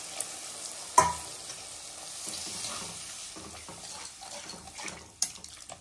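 Water is poured into a pan of simmering dried fish curry, making a steady sizzling, splashing wash with a sharp clatter near the start and a few stirring knocks. It is moderately quiet and has no talk.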